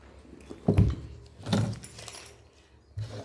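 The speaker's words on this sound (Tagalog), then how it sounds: "Susi lang dadalhin ko" A set of keys jangles in a few rustling bursts close by, with thuds and soft handling noise between them and no talking.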